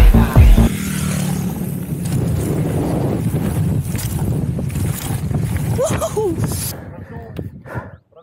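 Strong wind roaring across a mountain bike park, a loud steady low buffeting rush over the microphone with people talking beneath it.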